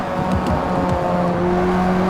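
A Ford Sierra RS500 race car on track, its engine revving hard with rising and falling pitch sweeps over a constant close-up mechanical drone from inside the car.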